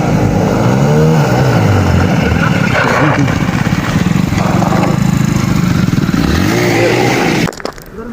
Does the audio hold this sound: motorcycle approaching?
yes